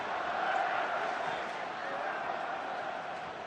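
A large rugby crowd at the 2015 World Cup match between Ireland and Italy roars in a steady, distant wash of voices, with chants for Ireland blending into the continuous din.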